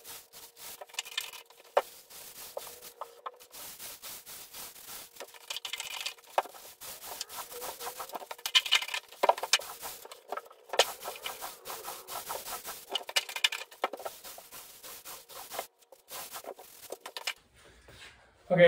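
A paint roller spreads RedGard waterproofing over shower walls in repeated rasping, rubbing strokes, uneven in rhythm and fairly close, with brief pauses between passes.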